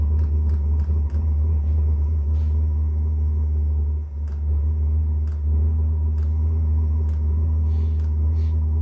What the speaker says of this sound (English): Pump is running. The pump just barely spits. It just goes puh, puh, puh.